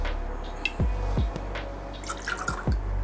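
Coffee liqueur poured into a shaker for an espresso martini, a few separate drips and splashes of liquid over a quiet background with a faint hiss.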